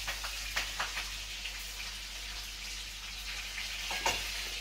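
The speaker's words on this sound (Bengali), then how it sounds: "কি রান্না করছে আজকে দিদি ভাই? খাসির মাংস।" Goat meat sizzles and fries in a pan in a village kitchen, with a steady hiss and occasional louder stirring scrapes and crackles, fairly close and continuous, no talk.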